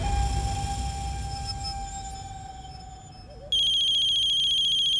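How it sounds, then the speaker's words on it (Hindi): A phone rings with an electronic tone from an unknown number, a faint sustained melody at first that jumps to a louder, brighter repeating ringtone pattern in the final second and a half. "अननोन नंबर से फोन आ रहा है मैडम।"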